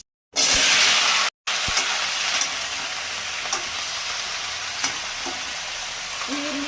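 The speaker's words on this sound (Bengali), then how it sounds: "এই দুটো শুকনো লঙ্কা দিলাম একটু ফোড়ন ফোড়ন দিলাম" Two dried red chillies tempering in hot oil in a karahi for a pui greens chorchori, opening with a loud bright burst of sizzle, a short cut, then a continuous close crackling hiss with faint scattered pops.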